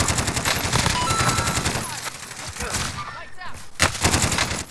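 Rapid M16 gunfire rattles in a Warzone match, bursts of sharp shots in quick rhythmic succession, loud and close, with a brief lull before more firing.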